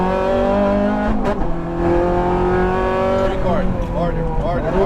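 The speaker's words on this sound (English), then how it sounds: "let's go ahead and just listen to a moment in one of my all-time favorite cars, the Ferrari" Ferrari F430 F1 sports car engine revving on a race track, a loud sustained high-pitched wail with shifting pitch and brief gear-change dips, continuous throughout with voices faintly underneath.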